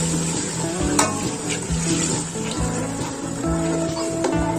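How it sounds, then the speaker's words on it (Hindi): Lassi poured over fried spices bubbles and sizzles in a pot for kadhi pakora, with a spoon clinking and scraping as it is stirred steadily, close and moderately loud, no voices. "वो सारी वो लस्सी को हम इसमें शामिल कर देंगे और चम्मच हिलाते जाएंगे।"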